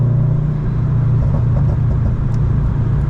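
A Toyota 86 engine and exhaust heard from inside while driving, a loud, steady, close low rumble with a deep drone throughout, no talking.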